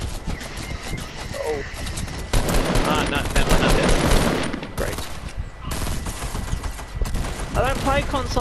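Bursts of automatic gunfire in the Fortnite video game, loud and close, rattling through most of the stretch with short pauses, while players talk over it.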